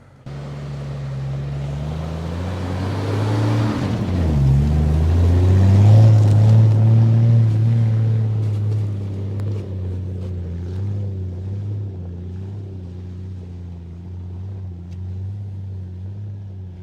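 A Jeep engine labours up a slick, muddy hill climb on Black Mountain, its low steady drone rising in pitch and strain midway before settling into a sustained, loud rumble with no talk.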